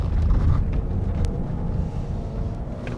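A 2016 Dodge Dart SXT being driven briskly, with heavy low engine and road rumble inside the cabin, plus wind buffeting that swells and eases, steady and close with no talking.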